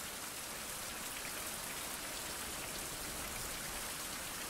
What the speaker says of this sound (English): every time I'm going to leave home, it's going to rain on me, isn't it?